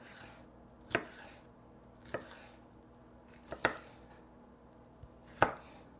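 A knife cuts through a red bell pepper on a cutting board in five separate, sharp chops spaced about a second apart, each a crisp thud with a quiet room between strokes.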